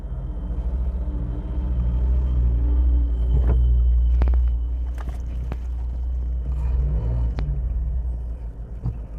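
A 2020 Toyota Hilux 4x4 pickup engine rumbles steadily at low pitch while rolling along, with a few sharp clicks and knocks from inside the cab.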